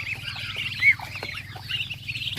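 Black Australorp hens, including a brooding hen on eggs, cluck and chatter softly on a heritage native chicken farm, a steady low murmur with one brief louder call near the start.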